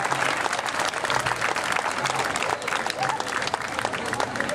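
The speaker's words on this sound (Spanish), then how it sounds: "Fuerte el aplauso para ellos." Crowd applause at the 2016 ejido festivities in Peñasquillo, a community festival, with loud, dense clapping from many hands sustained steadily throughout, with faint voices mixed beneath.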